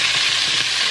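Pork browns in oil in a pan, a loud, close, dense sizzle with steady spattering and no pauses.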